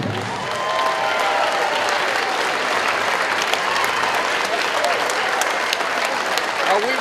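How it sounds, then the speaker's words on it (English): Steady applause from an audience honoring 50th anniversary award winners at a community junior wrestling event, a dense wash of clapping held for several seconds with faint crowd noise beneath. "Have a big round of applause for our 50th anniversary award winners"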